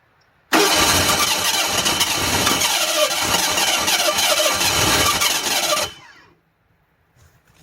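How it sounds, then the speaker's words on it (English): A burnt-up, busted Ford Bronco II engine cranks and fires with its timing being adjusted. It roars loud and rough for about five seconds, then dies away into near silence. "that's starting to sound like a motor"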